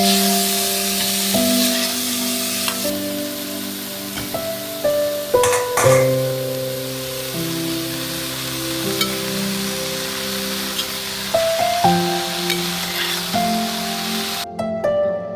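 Spiced potato samosa filling is stirred in a hot pan, giving a steady sizzle and light scraping that run under louder background music throughout.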